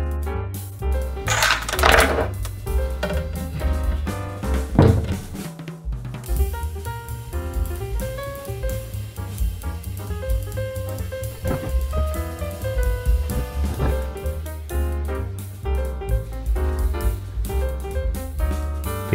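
A 3D printer working on a motor mount in a laundry room produces a dense, continuous whir of stepping, buzzing motor tones with rapid mechanical ticks, steady and close throughout.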